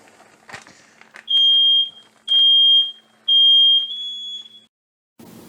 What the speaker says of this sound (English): had to go take care of a smoke detector problem